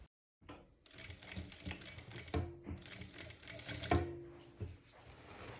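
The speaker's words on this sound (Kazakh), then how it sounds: "Енді оверлоктап, сосын 2 сантиметрге қайырып тігіп шығамыз." A sewing machine runs close while stitching a skirt hem, a quick rhythmic clatter of the needle with a couple of brief pauses and clicks, no talk.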